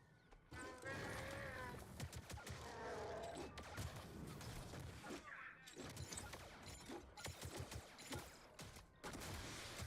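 Rapid blaster fire from a fire-support strike in the online shooter Star Wars: Hunters, dense overlapping shots and crashing impacts that keep up for several seconds amid a busy mix of battle effects.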